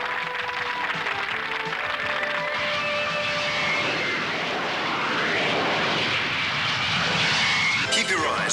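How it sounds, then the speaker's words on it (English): Five Valkyrie fighter jets roar past in an aerial acrobatics display at low altitude and high speed, a sustained engine rumble and whoosh that swells and sweeps across, with a voice talking over it and music in the background. "we present a display of aerial acrobatics performed by 5 of our latest Valkyrie fighters"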